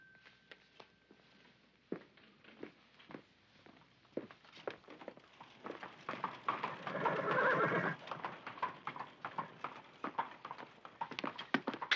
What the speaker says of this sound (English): close carriage, Holmes. One man at the reins